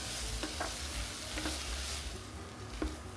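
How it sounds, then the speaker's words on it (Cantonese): Onions softened in a pan with about a teaspoon of tomato paste sizzle steadily while being stir-fried, with a few soft scrapes of the spatula over a constant frying hiss. "再炒下佢。"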